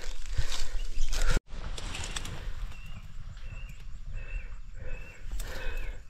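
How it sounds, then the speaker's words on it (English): A large mob of startled buffalo bolts through the outback bush, hooves drumming and crashing in a sustained rumbling rush, with birds calling through the fairly loud outdoor scene. "I just took a big mob of buffalo by surprise again. They've taken off."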